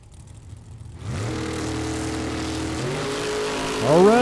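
A high-gear-only drag racing car, an American Race Cars Chevy II, launches at a drag strip: after a quiet start the engine bursts into a loud, sustained roar that holds steady without a shift, with another rising engine note near the end.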